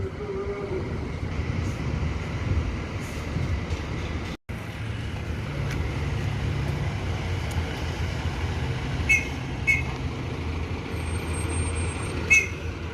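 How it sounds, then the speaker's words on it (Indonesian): Large intercity buses from Jakarta pulling in, with heavy diesel engines rumbling steadily and brief hisses of air brakes amid busy traffic noise. "bus-bus yang dari Jakarta sudah mulai masuk bosku"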